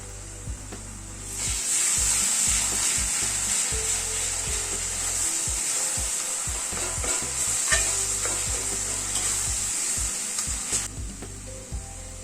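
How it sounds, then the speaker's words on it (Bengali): Spices and tomato paste sautéing in oil over a medium gas flame: a bright, continuous sizzle punctuated by repeated spatula scrapes and stirring strokes against the pan, easing off near the end. "গ্যাসের ফ্লেমটাকে মিডিয়ামে রেখে সব মশলাগুলোকে আবারও একটুখানি কষিয়ে নেব, যতক্ষণ অবধি না মশলাটার থেকে তেল ছাড়ে"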